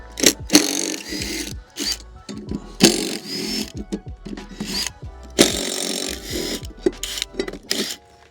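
Ratchet wrench working 5/8 blade bolts loose on a worn Toro zero-turn mower deck: close, repeated bursts of clicking pawl ratcheting mixed with metal and wood knocks and rubbing, alone without talk.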